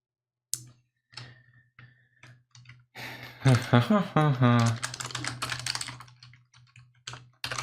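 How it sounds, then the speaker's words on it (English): Computer keyboard typing in a home coding session: scattered key clicks at first, then a longer burst of rapid keystrokes, with a voice speaking over part of it and a steady low hum underneath. "So do I need to type more characters?"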